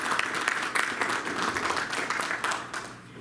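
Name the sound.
round of applause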